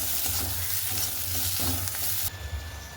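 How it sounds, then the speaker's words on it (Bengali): Leafy greens (saag) sizzle in a hot pan while being stirred, with a close, steady frying hiss and scraping stir sounds that soften slightly near the end. "এখানে এই যে শাক ভাজাটা হচ্ছে ভাজা ভাজা হয়ে এসে নামাবার সময় হয়ে যাবে"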